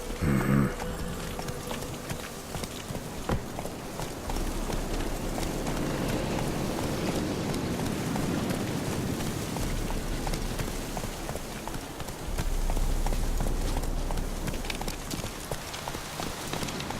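Horse hooves clip-clopping steadily in The Witcher 3 while the horse is ridden, a continuous loud patter mixed with ambient game sound and a rain-like wash, with brief speech.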